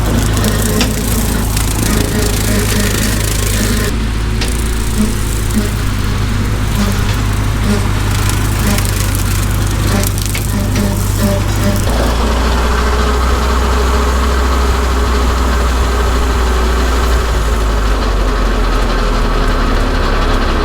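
A Ford 8N tractor engine drones steadily while brush-hog mowing, a loud low rumble with mower clatter that shifts pitch and load partway through as the work continues.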